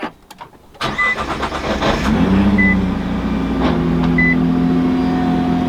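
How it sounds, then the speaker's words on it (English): A 2021 Nissan GT-R starts up with a brief crank and catch, then settles into a loud, steady, mechanical idle heard close and alone. "I love the startup sound. It's very mechanical."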